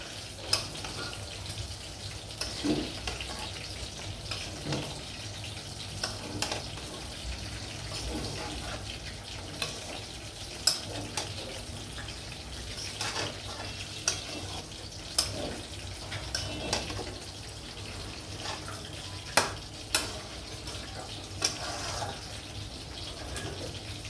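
Chicken frying in a pan for a home-cooked khichuri meal, a steady hissing sizzle with scattered sharp pops and crackles throughout, fairly quiet and with no talking.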